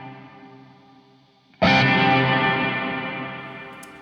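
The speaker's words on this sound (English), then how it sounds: "I'll just show you the small reverb" Electric guitar chord struck once through a small reverb pedal and left ringing, washed in a wide reverb tail that swells and slowly fades; quiet playing comes before it.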